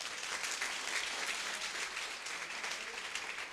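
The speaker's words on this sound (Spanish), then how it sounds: "Denle un fuerte aplauso al Señor." A church congregation applauds at a revival campaign service, steady dense clapping filling the space throughout, close and fairly loud with no talk over it.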